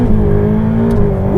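A Ferrari 488 Pista engine blips and revs through a downshift at high speed, a loud, continuous close-up roar with a pitch that dips and then climbs again, no voices over it.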